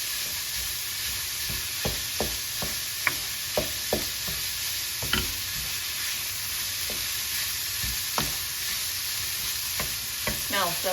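Already-cooked pork loin sizzles in a hot pan for pork fried rice, a constant close hiss broken by occasional clinks and scrapes of stirring.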